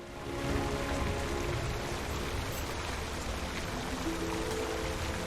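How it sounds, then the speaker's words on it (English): Steady rain falls in the Lord of the Rings Online game at the Citadel of Minas Tirith, a soft continuous hiss of drops with a faint tonal game ambience underneath. "Which seems appropriate seeing as how it's raining"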